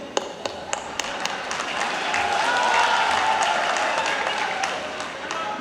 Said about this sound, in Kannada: ಅದಕ್ಕೂ ಚಪ್ಪಾಳೆ ತಟ್ಟೋದು